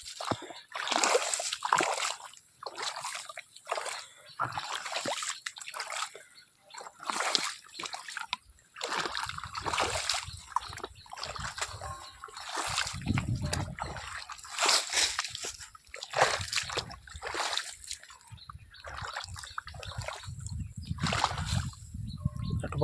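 Water from a motor pump gushes and splashes steadily into an irrigation channel on a village farm, a continuous close sloshing with a voice heard now and then.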